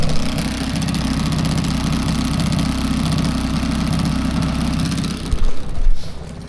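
A cold generator engine runs on choke in winter, a steady, loud, low rumbling drone with a fast pulsing beat, close up, with a brief uneven surge near the end.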